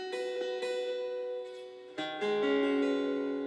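Acoustic guitar chords, several strums ringing out clearly and sustaining, the last chord shifting lower and holding, with no voice over them.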